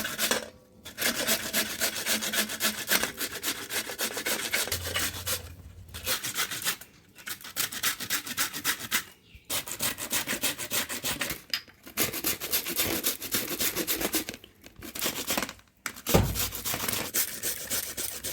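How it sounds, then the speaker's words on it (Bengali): Peeled mango is grated for kasundi in rapid, rhythmic rasping strokes, close and continuous, broken by several short pauses. "আমটা ঘষা হয়ে গেছে"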